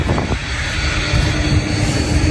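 Passenger airplane passing low overhead at Nai Yang Beach in Phuket, a loud steady engine roar filling the air throughout, very close and dominant.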